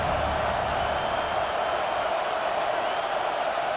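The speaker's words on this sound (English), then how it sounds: "Decibels rising as the crowd gets behind this defense on third down." A stadium crowd in an American football video game roars as a steady, uniform wash of cheering and noise. It holds at a constant level throughout, with no talk.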